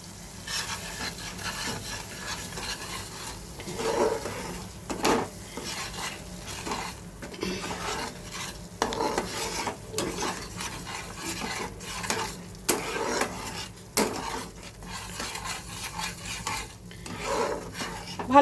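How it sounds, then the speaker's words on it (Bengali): A spoon stirs small shrimp through a spiced malai curry in a pan, with repeated scraping strokes and soft sizzling, close and moderately quiet, with no talking. "ভালো করে মশলার সাথে এগুলোকে মিশিয়ে দিলাম।"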